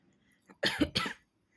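Two quick, harsh coughs close up, back to back, then quiet.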